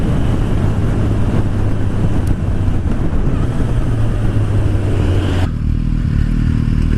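Engine of a 2016 Suzuki Bandit motorcycle while riding, a continuous loud drone mixed with heavy wind rush that briefly drops in pitch near the end as the throttle eases.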